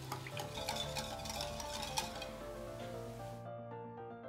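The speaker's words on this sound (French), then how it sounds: "Puis on ajoute le sel, la vanille, le lait et l'huile." A utensil stirs cake batter of egg yolks, salt, vanilla, milk and oil in a bowl, giving soft swishing with a few light clinks against the bowl before it falls silent.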